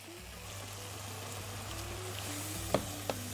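Mushrooms frying in a pan for an entrecôte with mushroom sauce, a steady low sizzle with soft crackle throughout, a constant hum beneath, and two brief sharp clinks near the end.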